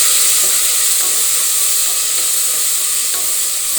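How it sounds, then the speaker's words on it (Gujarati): Onion and potato are sautéed in hot oil tempered with mustard seeds, cumin, asafoetida and curry leaves. The sizzle is loud, dense and continuous, close up, with no speech. "હવે નાખીશું ડુંગળી બટેટા, અને આપણે તેને સારી રીતે સાંતળી લઈશું"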